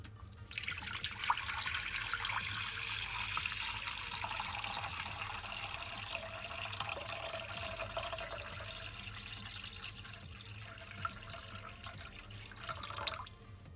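Steady running water from a tap splashing into a reptile's water bowl, a continuous trickle and gurgle lasting throughout, close by and fairly quiet.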